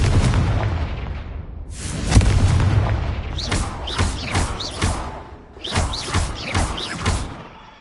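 Confringo blasting spell in Hogwarts Legacy set off as a string of loud booming explosions, a heavy blast first and then a run of rapid, overlapping fiery bursts and thuds with no speech over them.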